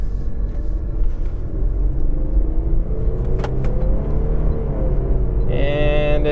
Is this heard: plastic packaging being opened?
no